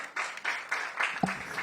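Audience applause at the launch of the national science and maths quiz championship in Ghana, a steady wash of clapping from a large hall with a brief thump partway through.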